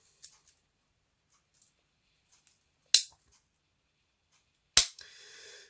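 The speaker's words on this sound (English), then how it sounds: "Next we have the scissors." Scissors on a Victorinox Super Tinker Swiss Army knife snipping, a few crisp, isolated clicks against near silence, with two louder sharp snaps and a brief faint rustle after the last.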